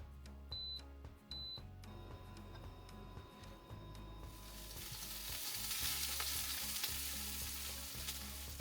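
Breakfast frying in a pan set on an induction-style cooking pad inside a 2026 Noovo Next 3500 AWD camper van, a steady sizzle with a few high electronic beeps at the start, the crackle growing louder and denser partway through.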